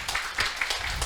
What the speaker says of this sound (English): I think it's a great moment to finish and to give some applause to our